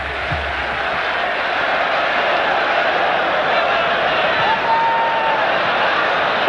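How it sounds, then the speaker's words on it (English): Football stadium crowd at a 1989 Israel vs Australia World Cup qualifier, a broad steady roar of applause and cheering that fills the whole clip at an even level, without speech. "A round of applause from the gallery."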